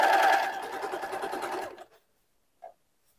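An overlock sewing machine set to a long stitch length runs through fabric for a baby onesie, a fast, even mechanical whir that stops abruptly after under two seconds, followed by silence and one small click.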